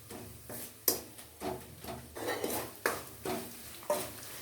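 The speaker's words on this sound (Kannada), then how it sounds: "1/4 ಕಪ್ಪಷ್ಟು ಪುಳಿಯೋಗರೆ ಪುಡಿಯನ್ನು ಹಾಕ್ಕೊಂಡು ಚೆನ್ನಾಗಿ ಫ್ರೈ ಮಾಡ್ಕೊಳ್ಳಿ." A spoon stirring puliyogare powder as it fries in oil in a pan, with rhythmic scraping strokes and clinks against the metal every half second over a soft sizzle.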